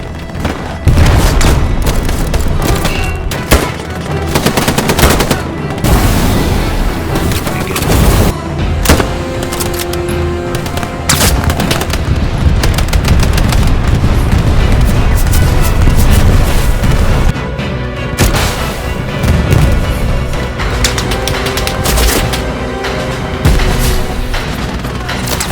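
Dense battlefield combat in the World War II shooter Hell Let Loose: repeated loud booming explosions and bursts of rifle and machine-gun fire overlap almost without pause, with heavy low-end rumble and occasional brief lulls.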